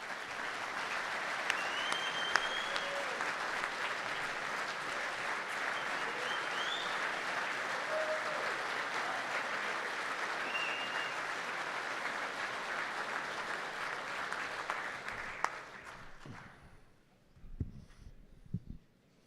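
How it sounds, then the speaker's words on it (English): An audience at the AIC 2025 recognition ceremony applauds steadily for about fifteen seconds, a dense, even clatter with a faint whistle or two. The clapping then tapers off to a few scattered claps. "I ask all of you to give a special round of applause to Bernadette and Larry for everything that they do for you"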